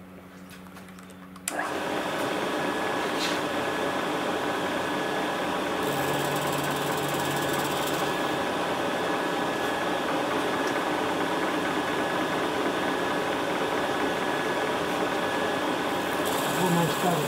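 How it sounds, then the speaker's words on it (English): Cutter machining plastic parts, a steady loud whirring machine drone with a constant hum, starting after a brief quieter moment and running continuously for the rest of the time. "little bit of machining action. Yes, I get to see the swarf coming off"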